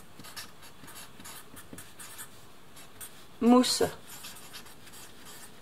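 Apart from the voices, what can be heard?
pen drawing a sketch on paper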